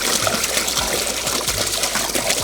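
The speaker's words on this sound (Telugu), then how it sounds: "ఇప్పుడు దబరా పెట్టుకొని మంచినీళ్ళు పోసుకుందామప్ప." Drinking water poured into a cooking vessel for Nizam chicken dum biryani, a steady close trickle and splash running throughout with no voices.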